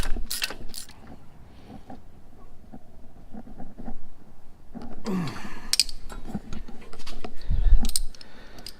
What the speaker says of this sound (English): we're just trying to get things tightened up here on this alternator